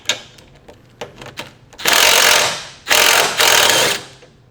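Ratchet working a control arm bolt on a BMW E53 X5 front suspension, an 18 mm bolt head: a few light clicks, then three loud sustained bursts of rapid ratcheting, close up.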